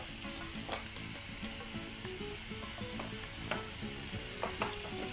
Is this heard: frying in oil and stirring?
yes